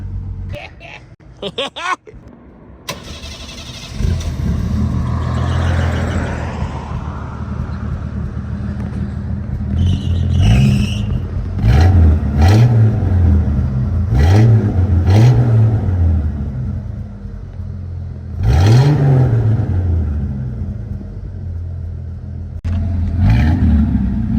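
A 1986 Ford F-150 pickup with dual exhaust idles with a deep, throaty rumble, then revs several times in rising and falling surges, close by.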